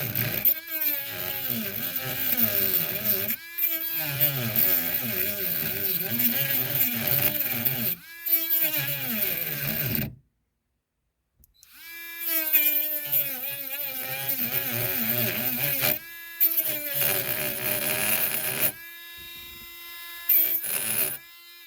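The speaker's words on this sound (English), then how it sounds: "So I'm going to use my cutoff wheel again. Make a notch in this so I can get it free." A cutoff wheel cuts a notch in a part during a blend door repair on a 1997 Ford Econoline E-150 conversion van, whining loudly in long rising and falling runs with one brief silent gap.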